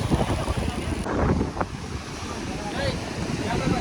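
Sea waves washing in at rising tide on the coast at Dwarka, a broad continuous surf roar mixed with gusty wind buffeting the microphone, loud and close.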